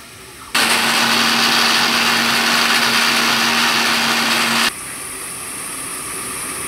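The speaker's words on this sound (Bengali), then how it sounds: "এগুলো সব আমি একসঙ্গে পেস্ট করে নেব" An electric blender grinds garlic, green and dried chilies and onion into a paste, starting abruptly with a loud steady whirring roar for about four seconds and cutting off sharply into quieter background hum.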